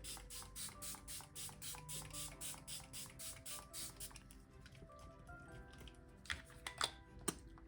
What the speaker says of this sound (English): I'm gonna go in with a different setting spray